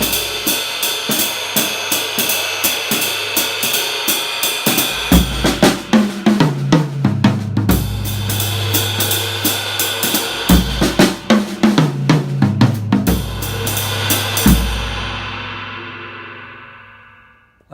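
Drum kit playing a swing pattern with a one-measure Afro-Caribbean fill, steady ride-cymbal pulses and bass drum hits running loud and close for most of the stretch, busier fill passages in between, then cymbals washing out at the end, no voices.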